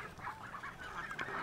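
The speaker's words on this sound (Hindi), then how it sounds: "अरे रहा अपना बतख।" A domestic duck or goose on a breezy, cold day gives a run of nasal honking calls, close and fairly quiet, repeated in quick succession without talk.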